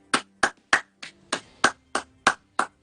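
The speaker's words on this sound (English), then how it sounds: "we want to continue to thank our frontline and essential workers with a round of applause" Eight or nine slow, evenly spaced hand claps ring out one at a time with silence between them, close and distinct, offered as a round of applause for frontline workers.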